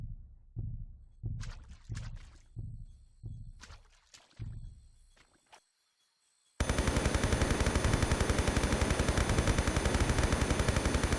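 Gunfire in the Tomb Raider 3 video game: a run of about eight loud, close shots with a booming low end arrives in a steady rhythm, then breaks off, and a dense, rapid burst of automatic fire follows.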